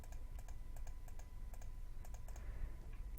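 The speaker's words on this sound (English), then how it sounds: "And I'm clicking, trying to get the points." Quick light clicks on a computer keyboard during a NASCAR Racing 2003 sim session, soft and somewhat distant, tapping in an irregular run of keystrokes with no talking.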